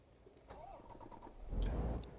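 A quiet truck engine in Euro Truck Simulator 2 cranks and turns over, then catches into a louder rumble in the final second; faint tonal sounds precede it.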